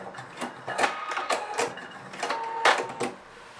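A sewing machine stitching down jeans fly seam allowances in short irregular bursts of rapid mechanical chatter, with brief pauses between runs, close and fairly quiet.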